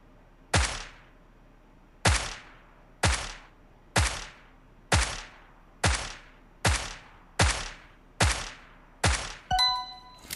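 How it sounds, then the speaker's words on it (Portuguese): Eight sharp gunshots from a Thompson submachine gun in PUBG Mobile fire at a steady, slow rhythm, each decaying quickly, followed by a brief metallic ringing at the end; no talking. "presta atenção no som que vai fazer aqui a Thompson e quando o tiro vai chegar lá no alvo"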